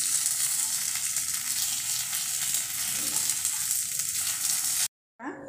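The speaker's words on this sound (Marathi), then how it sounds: "आता मी सगळे हे उलटून घेते।" Fasting appe frying in an appe pan as they are flipped, giving a loud, steady close-up sizzle throughout that cuts out briefly near the end before resuming.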